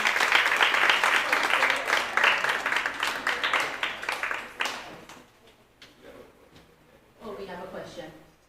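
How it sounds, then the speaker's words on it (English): Audience applause at an ADA 35th anniversary proclamation ceremony, a dense burst of clapping that fades after about five seconds, followed by quieter scattered claps and a voice speaking. "Can we have a round of applause for him?"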